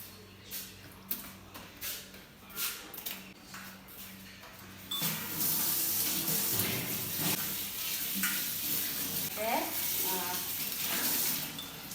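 Tap water runs steadily while dishes are washed at a Tezpur University girls' hostel, a close, continuous rush starting partway through after a few seconds of quieter sound with some voice.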